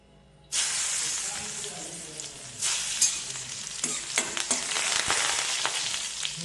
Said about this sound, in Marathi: त्याच्यात टाकू लसूण